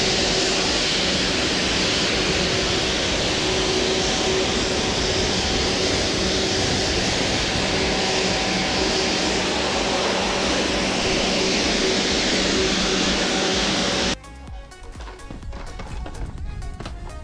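An electric power washer runs with a loud, continuous spraying hiss and a steady motor hum that holds for about fourteen seconds, then cuts off abruptly, leaving quieter clattering.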